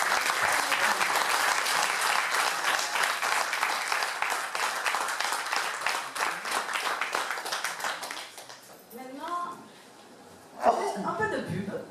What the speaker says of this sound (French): il mérite d'énormes applaudissements